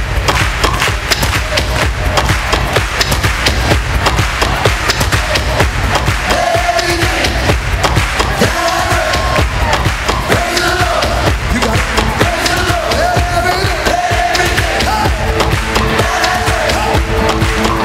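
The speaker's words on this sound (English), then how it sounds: "Please give a round of applause to the Destiny Dancers." Loud, dense crowd noise fills the whole stretch as an audience cheers and applauds a dance group at an expo welcome event, with music-like tonal lines running underneath throughout.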